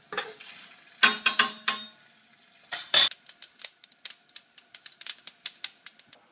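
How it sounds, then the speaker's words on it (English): Seeds dropped into 6 tablespoons of hot oil in a deep skillet, giving a burst of sizzling and crackling followed by a run of sharp, irregular pops and spits, close and fairly loud, with no talking. "in a deep skillet. I'm going to throw in the seeds."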